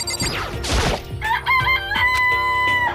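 A chicken in the video game Danganronpa gives a sharp burst of squawking followed by several warbling, crow-like calls, loud and near, over a low game background.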